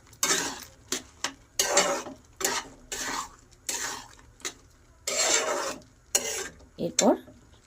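A spoon stirs egg tarka with ghee in a pan, scraping and rasping against the metal in repeated close, fairly loud strokes with brief pauses between them, no talk.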